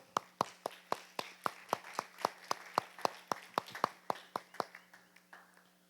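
Sharp, evenly spaced hand claps ring out in a steady rhythm, about twenty in a row, fairly quiet, as a small group welcomes people to the front of a church talk.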